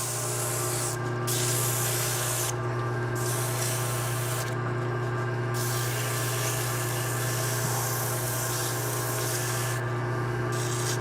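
Hand sanding of a wooden ice cream scoop with 220-grit sandpaper: loud, close rhythmic rasping strokes, continuous scrubbing broken by several brief pauses, over a steady low workshop hum.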